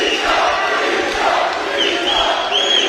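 A boxing crowd at York Hall chants for a fighter named Bisha, a loud, sustained roar of massed voices with rising chant tones.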